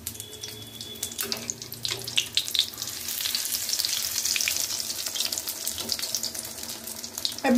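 Egg pitha fries gently in hot oil over a low flame, a continuous crackling sizzle that swells slightly in the middle and holds steady without a break.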